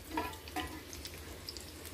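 Curry leaves dropped into hot oil for a cabbage curry, sizzling and crackling in two quick bursts that settle into a steady low frying hiss, with no talking.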